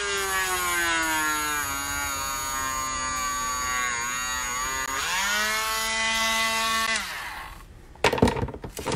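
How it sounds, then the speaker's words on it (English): A small power drill bores a tiny hole into a wooden clothespin angel ornament, its motor whining steadily and shifting pitch as it bites, then stopping with a few clattering handling knocks. "Gonna drill a hole."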